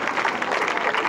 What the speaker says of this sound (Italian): un applauso a Miss